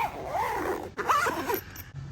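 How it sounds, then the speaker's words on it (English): Zipper being drawn closed around a fabric carry case for a portable solar panel, two quick zipping strokes close up with a short pause between them, no talking. "And that all zips up."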